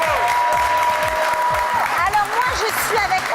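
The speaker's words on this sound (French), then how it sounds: "qu'on applaudit très très fort. Bravo!" A television talent show audience applauds loudly for contestant number one, dense continuous clapping with some cheering, heard under a host's voice and amplified music tones.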